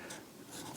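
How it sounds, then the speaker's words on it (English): Pencil lead scratching over wet polyurethane on a garden plant marker, a faint, steady close-up scribble with soft, papery strokes. "write on the wet poly with the pencil"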